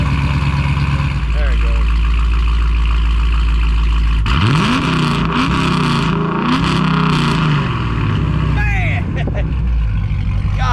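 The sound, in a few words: 5.7 Hemi V8 engine revving through exhaust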